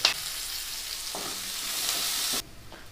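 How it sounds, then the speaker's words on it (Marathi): Sliced onion frying in oil over medium heat for a Marathi masala bhindi do pyaza, a steady close sizzle with occasional stirring scrapes, cutting off abruptly near the end. "तर आपल्याला कांदा पण जसा आपण भेंडी परतली त्या प्रकारे छान असा मध्यम आचेवरती परतून घ्यायचा आहे गुलाबी होईपर्यंत"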